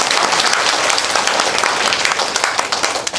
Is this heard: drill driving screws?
no